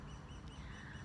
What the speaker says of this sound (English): Maybe you will hear the birds behind me tweeting.